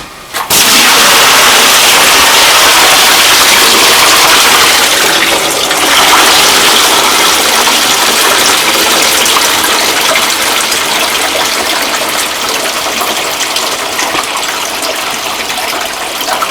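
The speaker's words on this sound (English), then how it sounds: "I'm going to rinse a few times and then I'm going to put soap back in there to soak it" Water gushes steadily into a bathtub while hand-washed clothes are rinsed, a loud, continuous rushing pour that starts abruptly and holds for the whole stretch with no talking.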